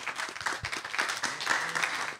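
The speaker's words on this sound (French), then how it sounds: "Je vais vous demander d'applaudir nos invités." An audience applauds the guests after a book presentation on 1922 tattooing in the Marquesas Islands, a short burst of dense clapping from a room full of people.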